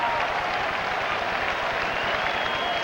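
Stadium crowd at a 1992 NFL football game between the Chicago Bears and Tampa Bay Buccaneers, applauding steadily in a dense, continuous wash of clapping, with a commentator's voice faintly under the noise.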